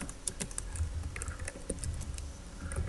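A run of quick, close key clicks from typing on a computer keyboard. The taps are irregular and steady, with no one speaking.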